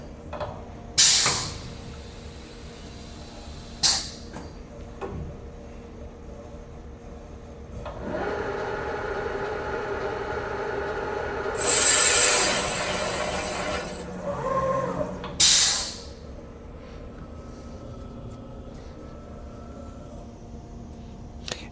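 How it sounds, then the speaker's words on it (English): A Rottler F10XS boring machine cuts a hole in a Chevrolet V8 engine block at 150 RPM, giving a rising, steady machining whine with a few sharp clanks and hisses spaced through it. "We'll cut this first hole and see how it looks."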